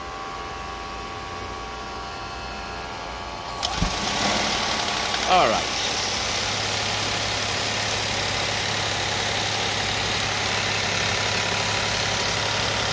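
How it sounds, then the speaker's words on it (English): A 2022 Toyota Aqua three-cylinder engine cranks and catches after a few quiet seconds, then settles into a steady, low, even idle that runs on, with one brief spoken remark. "Let's start the engine and measure back again."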